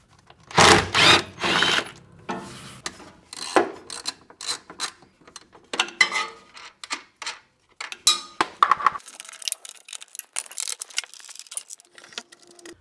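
Ratcheting tool backing out 10mm bolts from the shifter box of a 2022 Subaru WRX, several bursts of quick close clicking separated by pauses, with metallic clinks, no talk.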